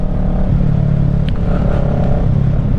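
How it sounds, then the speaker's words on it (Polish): A Kawasaki EX 650 (ER-6f) two-cylinder motorcycle engine runs close and loud with a steady throbbing rumble, small rises in revs and a couple of sharp brief clicks. "Tutaj mamy w ogóle silnik dwucylindrowy. Pokażę Wam jak strzela"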